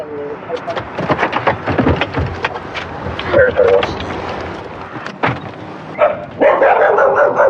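A dog barks repeatedly during a police call at a home, sharp loud barks coming in quick bursts while officers talk and radio chatter is heard nearby.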